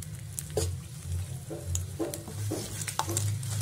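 Garlic cloves and dried red chillies sautéing in a pan for a groundnut chutney: a steady close sizzle with light stirring scrapes and small pops throughout.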